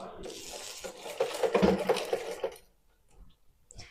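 A sewing machine stitches a blouse border in one short close burst of mechanical whirring that fades after about two and a half seconds, followed by faint handling sounds.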